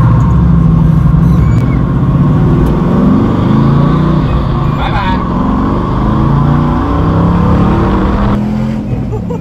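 Loud, close roar of a 1970 split-bumper Camaro pro-touring car with an LS1 V8, accelerating hard in second gear, rising and falling in pitch through continuous revs, with voices and laughter mixed in.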